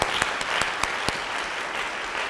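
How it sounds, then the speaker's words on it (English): An audience at a school foundation awards ceremony applauds, a steady patter of many hands clapping at a moderate distance, with a few sharper individual claps standing out. "can we please just take a moment to give them a round of applause"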